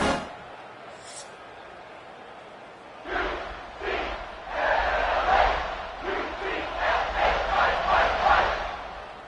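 Stadium crowd in the EA Sports College Football video game, a loud swelling roar with rhythmic chant-like pulses building over several seconds after a quiet start.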